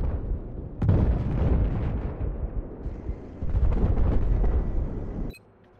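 Rocket launcher blasts and explosions in Battlefield 4 Conquest Large, a heavy booming burst followed by rumbling, crackling battle noise with a second surge of blasts before cutting to quiet.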